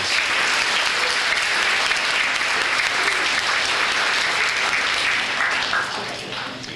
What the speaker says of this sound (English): So how about a nice round of applause for those ladies?